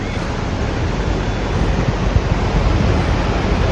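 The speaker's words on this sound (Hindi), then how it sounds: "पानी का फ्लो बड़ा तेज है, ऊपर काफी ज्यादा बारिश हुई है" A fast-flowing mountain stream swollen by heavy rain near Kareri Lake roars as a loud, steady broadband rush of water, close by and continuous with no voices.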